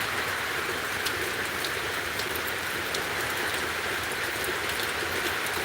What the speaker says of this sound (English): It's raining pretty good here, as you guys can see, or hear at least.